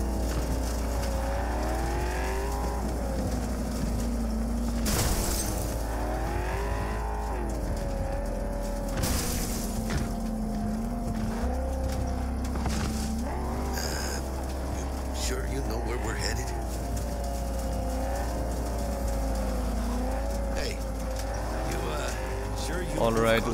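A car drives off-road in Cyberpunk 2077, its engine droning and rising and falling in pitch with shifts and revs, under frequent talk from a voice throughout.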